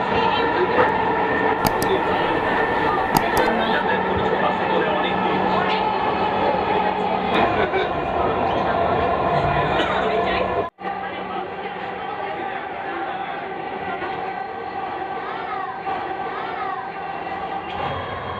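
A Dhaka metro rail train runs with a steady rumbling hum and whine inside the carriage, with a brief dropout partway through and soft passenger chatter and announcements in the background.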